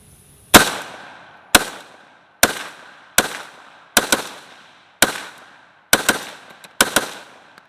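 A PSAK GF3 AK pistol with a 12.5-inch barrel fires about nine sharp, loud gunshots in an uneven sequence, each crack followed by a short decaying echo, with some shots spaced about a second apart and a few in quicker pairs.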